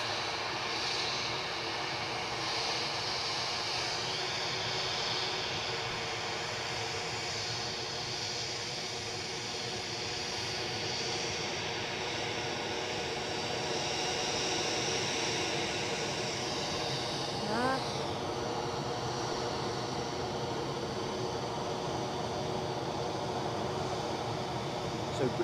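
A British Airways airliner on final approach to Edinburgh airport drones steadily in the distance, a broad continuous engine roar that holds level throughout.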